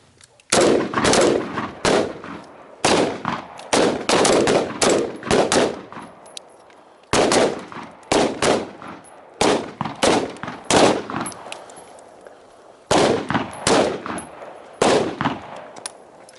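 Gunfire at a night shooting drill in a neighborhood defense setting, loud close reports fired in quick strings and pairs, with short pauses between volleys, repeating over about sixteen seconds.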